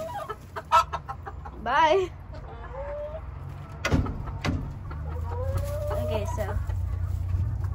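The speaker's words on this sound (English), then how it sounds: "He's a protector." A protective rooster at a backyard chicken coop clucks and squawks in several sharp bursts close by, with a person talking briefly between the calls while eggs are being collected.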